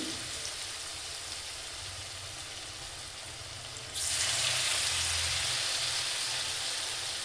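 Continuous crackling sizzle of batter-dipped potato bondas frying in hot oil, which grows suddenly louder and denser midway as more drop in.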